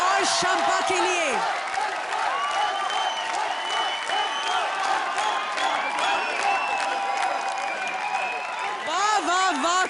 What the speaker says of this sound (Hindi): जोरदार तालियां सुशांत और शंपा के लिए।